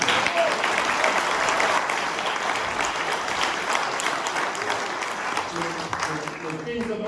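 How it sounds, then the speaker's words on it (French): A crowd at an election campaign meeting gives sustained, loud applause that fades gradually over several seconds, with voices starting to speak near the end. "Vous pouvez les applaudir"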